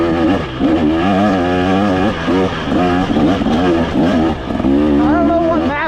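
KTM 300XC two-stroke dirt bike engine revving through the gears, a loud, close, buzzing note that climbs and drops repeatedly as each gear is run up, with brief dips between shifts.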